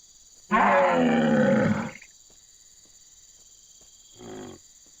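Ankylosaur dinosaur calls from the video game Jurassic Park Hunter Legends: a long, loud, bellowing roar lasting over a second, then a shorter, quieter bleat-like call a couple of seconds later, over a steady high game hiss.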